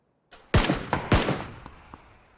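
Gunfire from a short-range video game gun: two sharp, loud close shots about half a second apart, each trailing off into echoing decay, with a few fainter pops after them.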